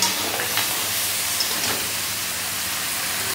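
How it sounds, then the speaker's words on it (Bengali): Steady, loud sizzling of crab frying in a hot pan, with a constant hiss and no talking. "তো এইভাবে আমি একটু ভেজে নেব।"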